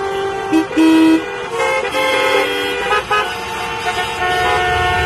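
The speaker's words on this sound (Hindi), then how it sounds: "एक ट्रैफिक सिग्नल जहां लोग बिना बात के हॉर्न बजाए जा रहे हैं।" Car horns honk repeatedly over a rumble of road traffic at a traffic signal in India, several toots overlapping at different pitches, loud and nearby.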